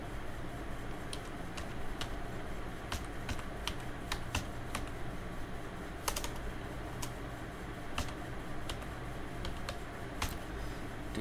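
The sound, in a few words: typing on a computer keyboard in Excel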